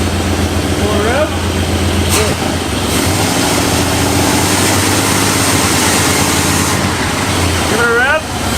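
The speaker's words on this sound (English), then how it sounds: "Give it a rev." A big-block Chrysler V8, running again after 35 years, idles roughly and lean, then revs briefly; someone talks over the steady engine note close by.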